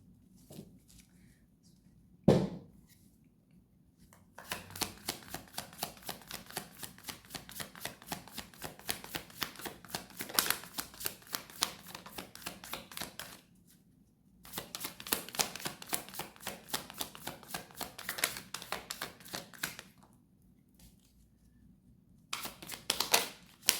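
Tarot cards being shuffled in two long bursts of dense riffling clatter with a short pause between, preceded by a sharp single tap near the start, close and moderately loud, no talk.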